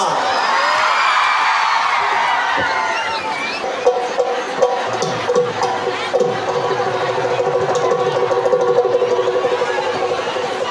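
A lively crowd cheers and whoops with shouts and yells, loud and sustained, with a busy babble of voices throughout.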